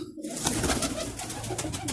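Pigeons cooing nearby in a coop in a steady murmur over a broad hiss of background noise, with soft rustling throughout.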